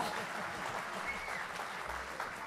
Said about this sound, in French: on peut leur faire un tonnerre d'applaudissements